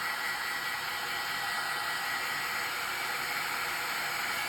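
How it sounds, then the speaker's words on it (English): A heat gun held a little away blows a constant, even broadband roar while drying dots of paint, steady and close with no speech. "if you hold your heat gun further away, you are more likely to dry them without smearing them"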